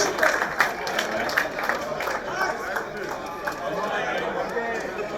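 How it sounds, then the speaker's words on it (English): A crowd at the World Fishing Games 2019 claps for the top fishing teams, with steady applause and some chatter running through the whole stretch. "Give all three our top teams a big round of applause"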